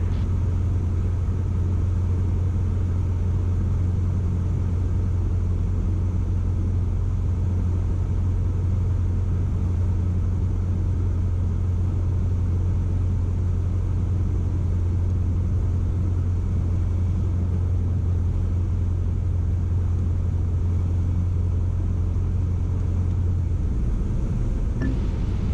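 A Cessna 150 light aircraft's engine drones steadily from inside the cockpit on final approach, a loud, constant low rumble that eases off near the end as power comes back.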